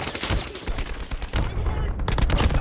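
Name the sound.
gunfire in COD Mobile video game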